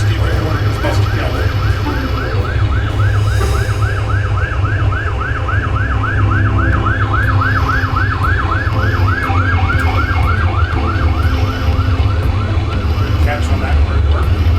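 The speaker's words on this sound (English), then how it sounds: "And you got the emergency vehicle coming on your left-hand side." An emergency vehicle siren in a truck simulator video game wails in a rapid, repeated rising-and-falling yelp over a loud, steady low truck engine drone, sustained throughout.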